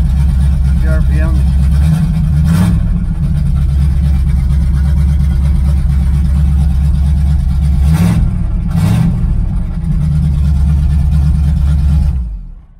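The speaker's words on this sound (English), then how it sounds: "So it starts on and off with the key." A 1985 IROC-Z's engine runs steadily after the key is turned, a loud continuous low rumble with a couple of brief revs or bursts, someone talking over it, before cutting off abruptly at the end.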